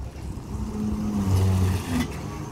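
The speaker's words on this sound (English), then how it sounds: "so that Forester over there is on the move" A 2019 Subaru Forester moving off nearby during an automatic emergency braking demonstration, its low engine hum rising and easing steadily over a few seconds with no talk.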